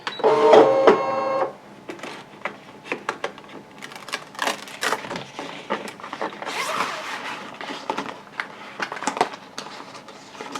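A cutting machine ejects its cutting mat with a brief whirring, buzzing motor burst, followed by scattered clicks, rustles and handling noises at close range.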